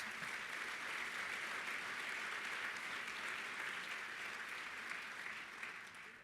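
Sustained applause from an audience at a bowling association convention's annual meeting, honouring Hall of Fame inductees; steady dense clapping throughout, tapering slightly at the end.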